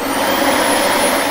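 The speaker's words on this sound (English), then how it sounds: "That's the vacuum cleaner, says Chloe." A vacuum cleaner runs in a steady, unbroken whoosh with a thin high whine on top, loud and close, with no voices over it.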